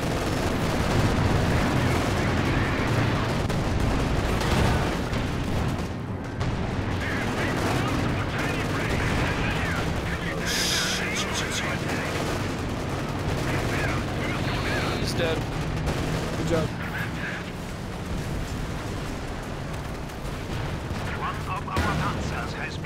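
Tanks trade fire in a Company of Heroes 2 battle, with dense, continuous gunfire and booming cannon shots under a steady wash of combat noise, and a voice talking throughout.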